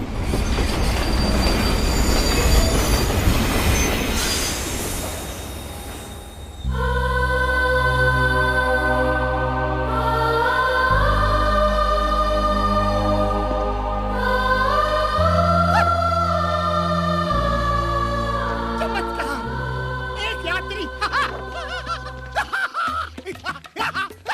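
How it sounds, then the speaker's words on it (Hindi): A train pulling into a small rural station, a loud rumbling roar that gives way to sustained squealing wheels and a harsh, droning horn-like tone, with clanking as it slows to a stop. "अरे यार, इस ट्रेन को भी इसी वक्त आना था।"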